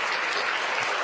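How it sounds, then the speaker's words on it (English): A short burst of applause, dense and steady clapping close by with no break across the moment. "we'll give the snaps and a round of applause for that"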